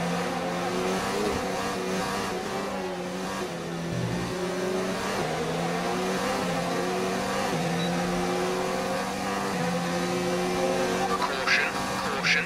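A Renault F1 car engine roars in the F1 2019 racing game during a final lap at the British short circuit, a sustained high-pitched whine rising and falling through gear shifts, with radio voices talking over it.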